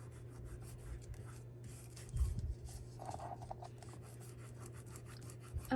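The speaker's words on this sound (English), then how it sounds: "I got some glue up here, so I'm just rubbing it off." Damp glue is rubbed off junk journal paper by hand, a faint, soft scratchy friction in short uneven strokes over a quiet room hum.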